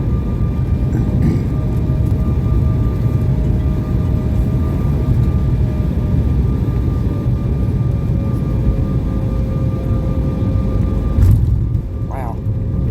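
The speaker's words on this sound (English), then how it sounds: "This is probably the roughest landing we've had in a while." A commercial airliner makes a rough landing, with a loud, steady roar of engines and rumbling cabin noise heard from inside throughout, and a brief clatter near the end.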